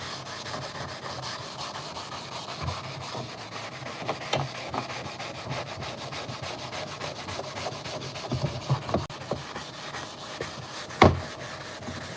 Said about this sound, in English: Now, we're gonna get a sanding block.